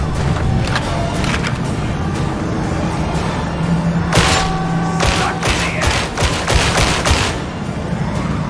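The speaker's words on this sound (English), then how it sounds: "Shooting." Repeated gunfire in the video game Warhammer 40,000: Darktide, a continuous stream of close, punchy shots and thuds with sharper bursts in the second half, set against a busy combat background.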